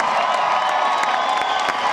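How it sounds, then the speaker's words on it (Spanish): A large concert crowd cheers, whoops and applauds loudly and continuously, a dense wash of clapping and shouting with no pause. "Un aplauso para Charlene, por favor"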